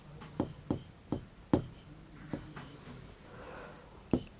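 Numbers being handwritten during a Class 3 maths lesson: about half a dozen short, sharp pen or chalk strokes, irregularly spaced and close, with a pause in the middle before a final stroke, and no talking.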